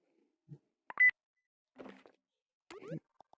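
Short electronic beeps from a wrong-answer signal in a password system built in the Rec Room video game, a few separate tones spread over a few seconds with quiet gaps between them.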